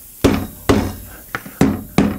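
Screws are tapped into a wooden board with a hammer while making table numbers: five sharp, hollow knocks at a steady, slightly uneven pace, close and clear, with no talk.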